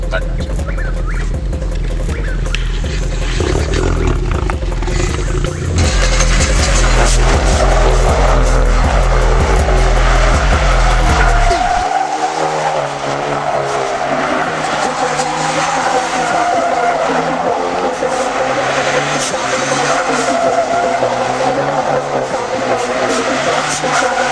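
A car spins tight donuts in a drifting lesson, with loud sustained engine revving and tire squeal throughout; the roar changes character midway as the car turns, and a voice talks faintly under the noise.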